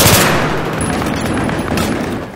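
Battlefield 3 gunfire from an AEK or M4A1 rifle, a loud, dense, continuous burst of rapid shots and crackling echoes that fills the whole moment.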